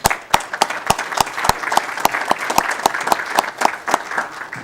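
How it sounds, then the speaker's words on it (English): Applause rises at a city council meeting for a scholarship award winner: a room of people clapping in a brisk, uneven patter with sharp individual claps standing out near the microphone. "let's give her a big round of applause"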